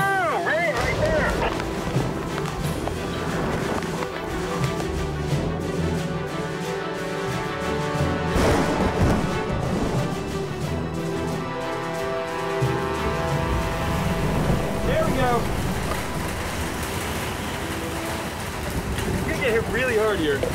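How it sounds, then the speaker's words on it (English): Heavy rain and gusting wind lash down in a Midwest storm as a solid wall of rain arrives, a dense, loud and steady roar filling the whole stretch, with people shouting over it. "Solid wall of rain approaching."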